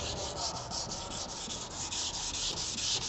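Steady, continuous scraping of sandpaper over polyester body filler on an automotive body panel during repair prep, a close, even abrasive rub with back-and-forth strokes and no talking.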